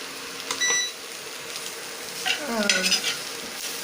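Dried prawns fry in oil on an induction cooktop with a steady, close sizzle, broken by a brief electronic beep and a burst of stirring and scraping in the pan.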